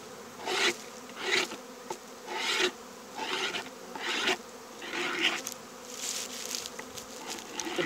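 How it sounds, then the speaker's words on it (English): Repeated rasping scrapes as moldy dead bees are scraped off a beehive bottom board, in rhythmic strokes about once a second, close by, over a constant buzzing hum of bees. "I'm just scraping the moldy dead bees off the bottom board."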